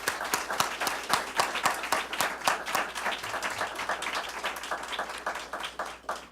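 A crowd applauds at an awards event for a small-business program, with dense, steady clapping that holds close and full for several seconds and no speech over it.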